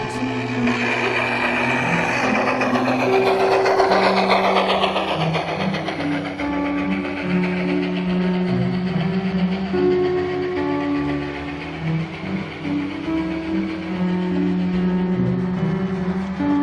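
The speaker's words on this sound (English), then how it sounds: "the next train we saw was an N&W passenger train, led by a classic N&W J-Class locomotive" A Scale Trains model N&W J-Class steam locomotive pulls a passenger train steadily with a continuous rumbling chug and layered tonal hums, loud and close throughout, no voices.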